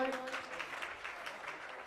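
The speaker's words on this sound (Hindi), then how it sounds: "जोरदार तालियां बजाएं" Faint, steady clapping from a crowd at a Jain community gathering, a continuous soft patter that sounds distant and lasts the whole short stretch.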